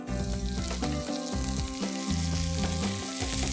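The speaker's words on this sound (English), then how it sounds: "So first I'm going to start with sauteing the onions." Onions sauté in ghee with peppercorns, cinnamon, cloves, cardamom and fennel seeds, giving a steady, close sizzle with occasional stirring bumps throughout.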